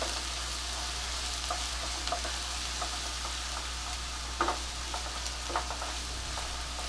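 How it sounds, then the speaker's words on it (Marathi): Chopped cabbage, capsicum, carrot, spring onion and onion sauté in a pan with a steady soft sizzle and occasional light stirring scrapes, fairly close and alone, no voices. "थोडस परतून घ्यायचंय"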